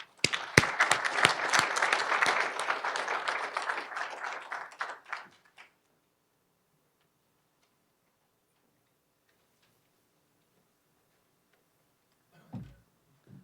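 An audience at a Global Leadership Summit conference applauds to welcome a speaker. The dense, lively clapping lasts about five seconds and fades out into near silence, with a faint thump near the end.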